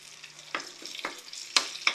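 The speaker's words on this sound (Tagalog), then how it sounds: "Yan guys, igigisa na natin yung bawang." Garlic sautéing in a little leftover frying oil in the pan used for chicken pochero, with a low steady sizzle broken by several sharp stirring scrapes and pops, close and alone without speech.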